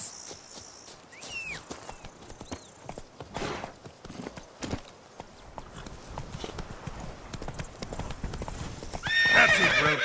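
Roach the horse in The Witcher 3: Blood and Wine, hooves clip-clopping at a steady walk with a neigh, close and clear over ambient game background, intensifying toward the end.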